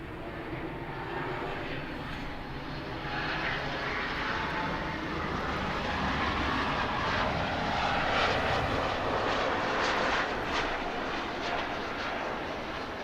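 A jet airliner at Los Angeles International Airport roars steadily and loudly throughout, a continuous broadband engine rumble that swells slightly midway, with no talk over it.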